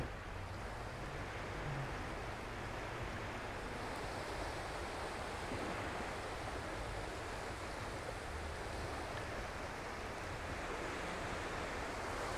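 Sea waves wash steadily against an Albanian shoreline, heard from a balcony as a continuous, fairly faint roar of surf mixed with light wind, with no talking.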